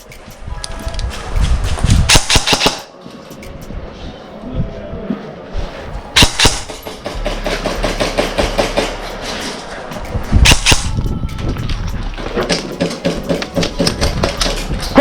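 Airsoft guns fire pellets during an outdoor airsoft game, with bursts of rapid, clattering shots alternating with single sharp cracks over about fifteen seconds, mixed with people shouting and talking.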